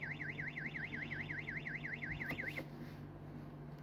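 A fire alarm in the Roblox game wails with a rapid warbling electronic tone, loud and steady for about two and a half seconds before cutting off, leaving a low background hum.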